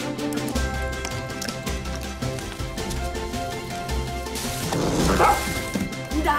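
A dog barks in a film scene, short sharp barks mixed under continuous orchestral music that swells toward the end.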